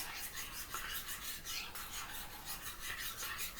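A sauce with ketchup is mixed in a bowl without a whisk, giving a continuous soft rasping, scraping sound with a faint rhythmic pulse, quiet and close, with no voices.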